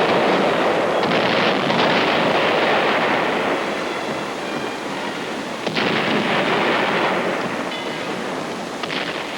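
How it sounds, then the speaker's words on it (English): World War II artillery bombarding enemy defenses at San Pietro: a loud, dense, continuous roar of distant guns with sharper bursts near two and six seconds, heavy and unbroken throughout, with no speech. "Now our artillery pounded and repounded the enemy defenses guarding San Pietro."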